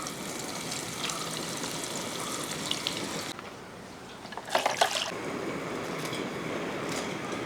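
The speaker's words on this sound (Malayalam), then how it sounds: "ഒരു മൂന്ന് പ്രാവശ്യമായിട്ടാണ് നമ്മളത് വറുത്തെടുക്കുന്നത്" Coated eggplant pieces deep-frying in hot oil: a dense, steady bubbling sizzle close up that drops briefly, then bursts into louder crackles as the pieces are moved, then settles back to a constant fizz.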